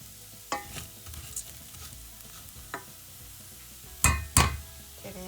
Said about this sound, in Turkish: Pirinçlerle de kavrulsun.